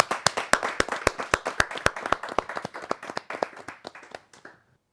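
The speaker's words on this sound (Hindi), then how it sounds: "मैं जोरदार तालियों के साथ मैं अभिनंदन करता हूं" Clapping at a Hindi poetry gathering: a small group of hands clap in a quick, steady rhythm of sharp distinct claps, loud and close, thinning and fading out after about four seconds.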